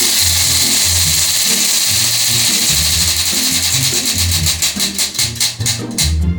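A prize wheel spins with a loud, continuous whirring rattle under background music, its clicking ticks growing slower and more distinct as the wheel winds down near the end.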